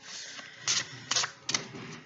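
A deck of tarot cards is shuffled by hand in three quick, crisp riffling bursts close to the microphone, separated by brief pauses over a quiet room.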